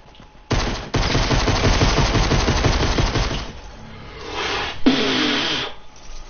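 Gunfire in the video game Fortnite: a loud, fast automatic burst rattling for about two seconds, then quieter scattered shots and a final short sharp crack, with no voices.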